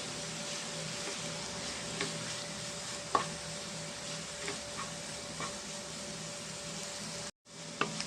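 A carrot and egg fry stirred in a pan gives a quiet, constant low sizzle with a few faint, scattered taps and scrapes of a utensil, and no voices.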